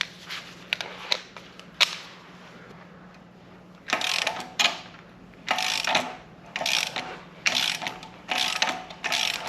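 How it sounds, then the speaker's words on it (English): A regular hand ratchet turns a bolt while installing an Aeromotive Stealth fuel pump on a 1992 Firebird, first in a few quick separate clicks, then in repeated loud rhythmic bursts of rapid clicking up close. "I'm gonna start this with just a regular ratchet"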